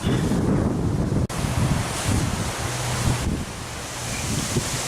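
Strong wind buffets the microphone in a constant, roaring rush with gusty swells at a fishery, and surf-like noise runs underneath. No one speaks.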